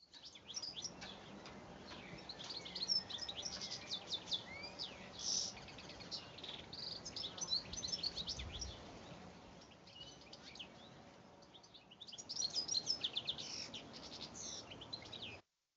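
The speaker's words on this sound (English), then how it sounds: "I want you to listen to this beautiful bird just for a couple seconds" Recorded birdsong plays quietly, a series of bright chirps and warbling phrases over faint background hiss, with short pauses between bursts.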